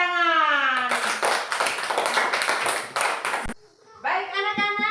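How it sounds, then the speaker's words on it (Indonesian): Children in a classroom clap their hands together for a few seconds, a dense burst of claps that cuts off abruptly, framed by a child's sung or chanted voice before and after. "tepuk tangan."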